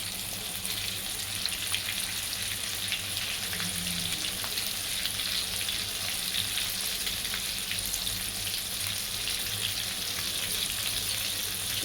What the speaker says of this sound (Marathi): छोटेच आहे बांगडे, तळत आहे.